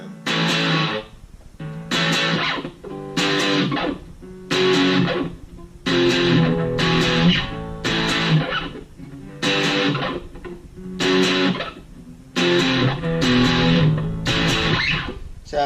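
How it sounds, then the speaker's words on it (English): Distorted electric guitar strums chunky power chords in short bursts, each ringing about a second before a brief gap, repeated steadily. "you have power chords, you can give it a little distortion"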